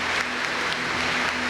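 Church congregation applauding in honour of Our Lady during a Mass homily, a dense, steady wash of many hands clapping close by, loud and continuous throughout with no pauses.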